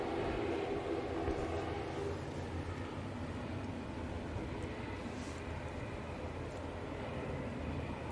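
A Lufthansa airliner coming in to land, heard as a steady, broad roar of jet engine noise that holds at a constant level throughout, distant and continuous.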